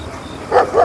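A dog gives two short barks close by, the second slightly longer, over a quiet background in a comedy sketch.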